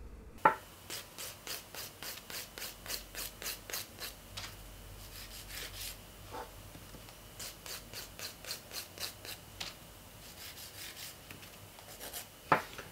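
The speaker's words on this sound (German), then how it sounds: "wir feilen an den Seiten wirklich nur gerade vor und zurück" Nail file rubbing along the sides of a square-shaped gel nail in steady straight back-and-forth strokes, a close, dry rasping rhythm repeated in quick bursts with brief pauses between sets.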